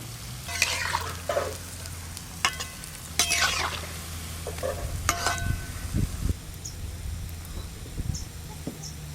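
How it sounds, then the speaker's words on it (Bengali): Palm fruit fritters (taler bora) fry in hot oil with a steady sizzle, punctuated by several sharper spatters and stirring clicks at close range, with no talk over it. "এই যে তালের বড়া ভাজি"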